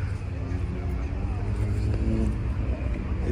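Classic cars gathering at a vintage car meet with Alpines, Porsches and an Opel GT, engines rumbling low and steady under a crowd's background chatter.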